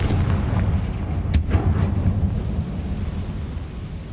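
Spell explosions from Bombarda and Confringo in the Hogwarts Legacy video game: deep rumbling booms with a sharp blast in the middle over a dense, continuous roar.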